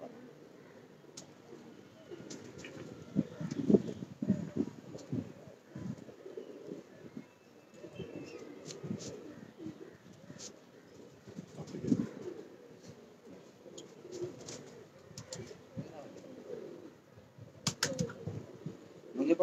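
Pigeons coo in low, throaty murmurs around a building at the Rawalpindi Gymkhana, a continuous soft burble with scattered faint chirps and wind noise. The cooing is quiet and mid-distance.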